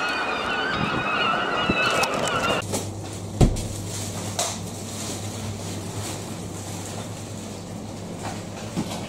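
Flock of birds, likely geese, honking loudly and continuously at close range on a Scarborough seafront in early spring, a dense clamour over a low engine hum, with people chatting nearby.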